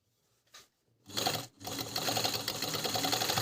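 An Agat Donlock 54D4 industrial overlock machine sews with a loud, dense mechanical whir that starts after a brief tap and a short first burst, then runs continuously, close and alone.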